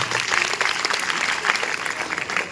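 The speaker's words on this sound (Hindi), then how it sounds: "एक ही जोरदार ताली बजाओ इसके लिए" Audience at a free bicycle distribution event in Mohan Badodiya clapping loudly and steadily, a dense, sustained burst of applause with faint voices mixed in.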